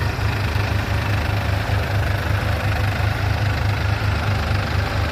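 A Powertrac Euro 45 Plus 4WD or New Holland Excel 4710 4WD tractor engine turns over steadily at about 1000 RPM under load in reverse gear, a loud, even low throb with no voices.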